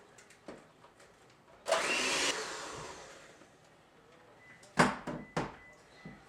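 An electric hand mixer whirs briefly through red velvet cupcake batter in a short motorized burst. A few sharp knocks and clatters of the bowl follow, and a voice is faintly present.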